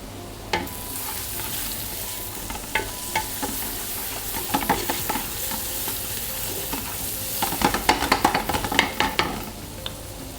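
Browned onions with salt sizzle in a pan for a Murgh Pilau, a steady frying hiss broken by repeated scraping and clinking of a spoon stirring, growing busier toward the end.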